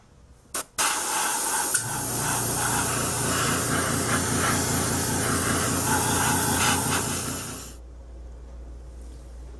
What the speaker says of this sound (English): I'm going to protect my model by giving it a coat of Future Flow Wax.